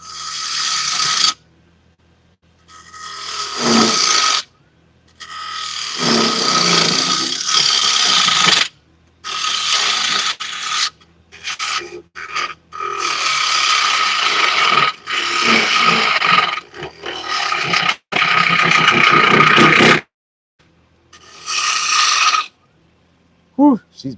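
A wood lathe turns a bowl while cutting bursts come and go, a loud rattling, ratcheting chatter in repeated stretches broken by sudden silences as the machine bogs down.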